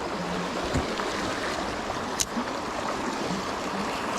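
A swift-running stream gives off a soft, steady rush and babble, fairly quiet throughout, broken by a couple of brief knocks or splashes.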